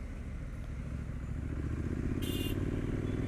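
A Triumph Street Scrambler 900 motorcycle ridden through city traffic, its engine giving a steady low rumble that swells slightly louder midway, close and continuous, with a brief high hiss near the end.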